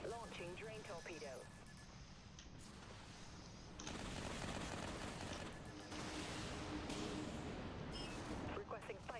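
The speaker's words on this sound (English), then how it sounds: "Launching drain torpedo." A drain torpedo launching in the naval combat game Dreadnought, a dense, loud roar of weapon fire and booms that keeps building, with a voice briefly speaking at the start and end.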